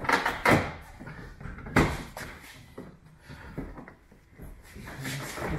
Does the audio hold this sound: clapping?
no